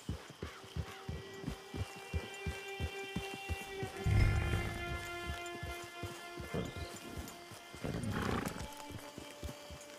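Horse hooves clip-clop in a steady walking rhythm in the Red Dead Redemption 2 video game, with bursts of louder rustling and a horse snort breaking in midway and near the end.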